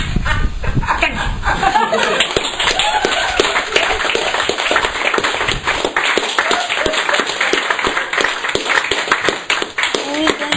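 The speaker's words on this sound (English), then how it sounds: "one more big round of applause for Angie Belcher, please." An audience applauds a poet at a Sunday afternoon poetry event, with dense clapping, some chuckles and laughter running steadily throughout, and a voice talking over it early on.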